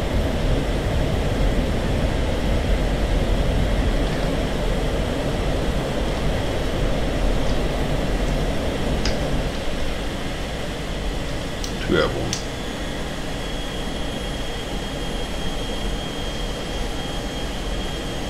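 A steady roar from an F-16 jet engine just after takeoff in DCS, a continuous loud drone that holds evenly throughout, with brief higher tones cutting in near the middle.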